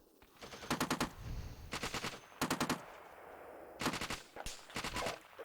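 Machine gun fire in the Steel Beasts tank game comes in five loud, rapid bursts of shots, separated by short gaps of rumbling background.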